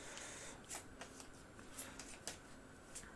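Playing cards are riffle-shuffled close by during a solo tabletop game, giving several quick crisp rippling bursts between quieter pauses, soft overall with no talk.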